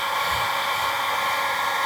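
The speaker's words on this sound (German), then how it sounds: "Diese etwas dickere Schicht mit etwas behutsam mit dem Föhnprozess trocken zu föhnen." A hair dryer blows steadily and loudly at close range, drying a thicker layer of dye on leather during a repair, a continuous even airflow hiss throughout with no voices.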